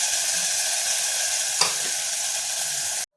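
Browned onion frying in a pan with a pinch of turmeric and tomato for egg curry, a steady close hissing sizzle with a brief stir scrape midway before it cuts off.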